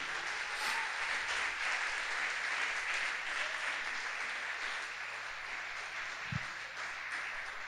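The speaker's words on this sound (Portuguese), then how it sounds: "Quem crê e recebe, pode aplaudir o Senhor Jesus por isso?" A church congregation applauds steadily during a sermon, a dense, even wash of clapping from many hands that carries on without pause.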